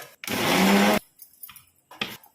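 A mixer grinder whirs in one short burst of under a second to chop raw onions into a sesame tomato chutney, then stops, leaving a few soft clinks and handling noises.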